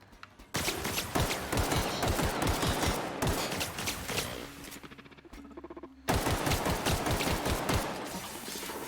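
Gunfire from The Outer Worlds video game comes in rapid, sustained bursts of loud, close shots that cut off briefly near the middle and then resume at the same fast pace.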